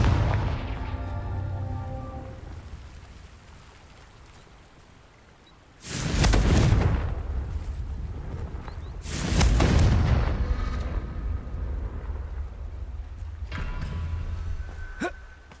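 Blasting spell explosions in Hogwarts Legacy, two big booming bursts a few seconds apart, each with a rumbling tail, then a quieter crackling blast near the end, over a fading ambient bed.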